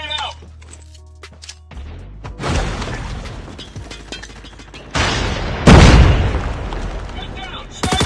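Grenade and gunfire in Call of Duty Mobile: heavy booming blasts and crashing bursts hit in waves, with a big explosion near the end, close and loud amid other battle noise.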